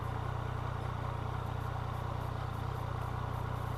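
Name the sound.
Yamaha MT-09 motorcycle engine juddering in first gear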